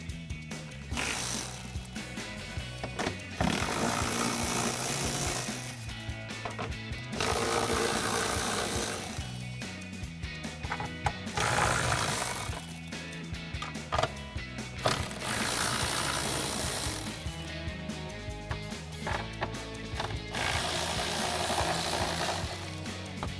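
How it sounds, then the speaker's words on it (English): An 11 mm socket on a ratchet loosens exhaust heat shield nuts under a Jeep Wrangler JL, repeated bursts of fast clicking with brief pauses between strokes, close and steady, no voices. "So I've got an 11 millimeter socket and I'll pull these all out."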